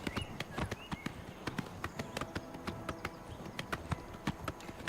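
Horse galloping in the video game Oblivion Remastered, a steady run of sharp hoof clip-clops in quick rhythm, fairly close and moderately quiet, with no talking.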